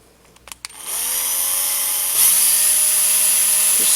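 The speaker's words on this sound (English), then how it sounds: "Take one of your screws, which is this size right here, put it in the hole on either side." A small screw being driven into an Axial SCX10 1/10 scale RC trail truck axle with a power driver: a few handling clicks, then a steady high motor whine that rises in pitch partway through and continues, loud and close.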